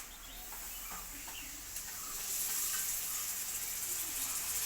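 Tomatoes dropped into a pan of frying onions for pork curry, a soft hiss that swells into a louder, steady sizzle partway through.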